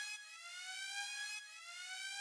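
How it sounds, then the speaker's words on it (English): A video game alarm wails in a steady siren tone with layered high harmonics, dipping briefly midway and then continuing, loud and alone with no voices. "the alarm begins to sound, signaling that this was probably the wrong answer"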